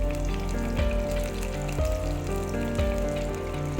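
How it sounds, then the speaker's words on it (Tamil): About fifteen garlic cloves fry in a pan with jeera and lentils, giving a steady close sizzle with soft crackles and occasional light stirring taps. "பூண்டு பல் 15 போட்டுக்கலாங்க."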